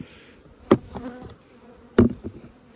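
Honey bees hum around an open hive box full of honey, with a low steady buzz punctuated by two sharp knocks of hive equipment.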